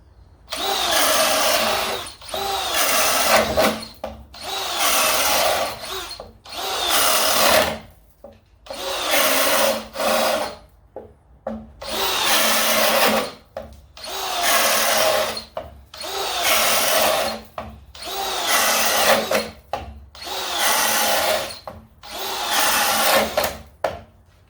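A Ridgid subcompact drill bores holes into wood in repeated bursts of high-pitched whirring, about a dozen runs of roughly one to two seconds each separated by short pauses, loud and close.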